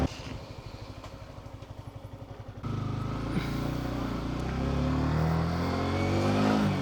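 A Yamaha R15 V4 motorcycle carries a rider and a pillion passenger. A low, pulsing engine note first throbs steadily, then gives way to a broad rush of wind and road noise at moderate volume.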